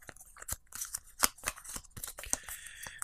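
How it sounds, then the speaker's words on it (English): Cards from the Bloodborne board game are shuffled by hand, a faint, close series of irregular crisp flicks and riffling snaps spread over a few seconds with no talk. "These are all going to get shuffled back up."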